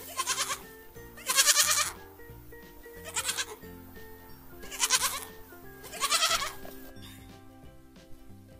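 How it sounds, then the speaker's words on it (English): A goat bleats five times in a row, loud and close, each call a wavering, nasal cry with brief pauses between, alone with no talking. "G for goat."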